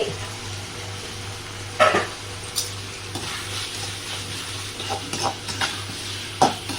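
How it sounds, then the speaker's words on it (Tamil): Tomato and onion sauté in a pan for a potato gravy, giving a soft, steady sizzle with occasional scraping stir sounds and a low hum underneath, close and without talk. "தக்காளி வெங்காயம் வதங்கிட்டுருக்கேன்."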